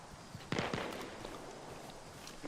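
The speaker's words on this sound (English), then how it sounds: "I cannot see where the gunfire that we're currently hearing is coming from" Gunfire in the video game Arma Reforger: a quick cluster of several sharp cracks at mid-distance, then a sustained noisy background with a few fainter distant pops.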